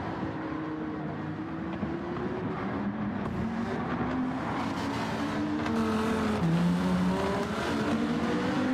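A race car engine in Gran Turismo 7 drones quietly, its pitch rising and falling through gear changes as the car accelerates, with no one talking.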